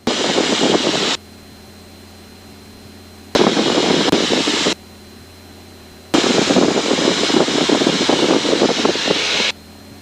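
A light airplane engine drones steadily during slow flight in a training lesson, heard as loud broadband bursts that cut in and out three times, with quieter gaps between them.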